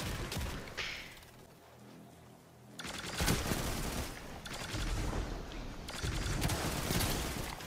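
Scout rifle fired repeatedly in a shooter video game, dense clusters of sharp, loud shots in several bursts with a short quieter gap between them.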